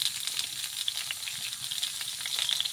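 Pointed gourd and potato pieces fry with salt and turmeric in a pan, giving a steady close sizzle with small crackles and light stirring scrapes throughout, no voices.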